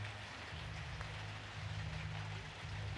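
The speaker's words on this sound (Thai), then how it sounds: "ฝนตกเลย" Steady rain falls outdoors in a rural Thai village, a continuous even hiss with a low hum running underneath, and no one speaks.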